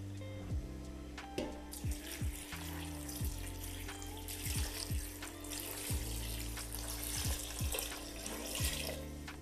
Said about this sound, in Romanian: și peste legume pun 4 litri de apă.